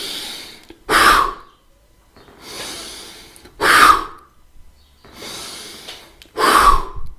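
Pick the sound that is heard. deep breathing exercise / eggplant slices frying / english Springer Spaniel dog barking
deep breathing exercise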